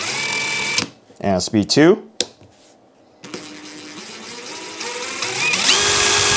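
A DeWALT DCF887 brushless impact driver whirring in short bursts at different variable trigger speeds, loud and close, with someone talking between runs and a steady motor whine building near the end.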